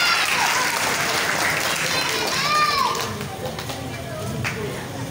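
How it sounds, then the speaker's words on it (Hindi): Audience applause at a Diwali celebration, a dense wash of clapping mixed with crowd chatter and children's voices, steady and fairly loud before easing off slightly. "बहुत सारी जोरदार तालियां बजाई जाती है"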